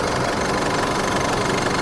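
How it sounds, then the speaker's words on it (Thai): 2011 Isuzu D-Max Hi-Lander 2.5 Super Titanium diesel with a manual gearbox idling, a steady, dense engine hum with a faint rapid knock, heard close and continuous with no voices. "เครื่องแห้งกริบเลยนะ เสียงเครื่องเงียบมาก"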